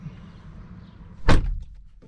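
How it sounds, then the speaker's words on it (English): A car door is shut with a single loud thunk, followed by a few faint clicks and rattles, with quiet cabin hum before it. "Open the door for a second."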